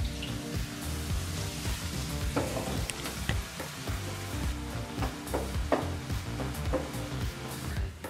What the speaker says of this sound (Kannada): ಈರುಳ್ಳಿ ಚೆನ್ನಾಗಿ ತುಪ್ಪದಲ್ಲಿ ಫ್ರೈ ಮಾಡ್ಕೋಬೇಕಾಗತ್ತೆ